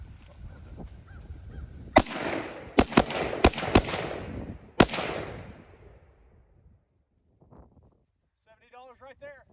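A Bushmaster rifle firing at rubber dummy targets outdoors, five loud sharp shots spaced about a second apart with ringing decay, followed by quiet and brief speech near the end.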